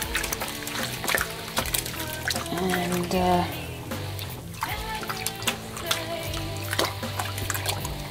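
Water sloshes and trickles as bras are worked by hand in a basin of soapy water, with music playing and a brief spoken word.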